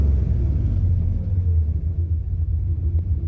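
A car engine with Holley EFI, parked with the AC off, gives a deep, steady low rumble close by, easing slightly and then holding, with no talking.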